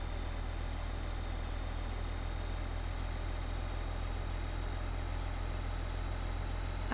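A small tractor engine from Farming Simulator 15 runs steadily during a wheat harvest, a constant loud low drone with no change in pitch and no talking.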